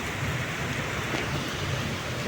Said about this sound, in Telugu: చాలా గట్టిగా పడుతుంది అన్నమాట వాన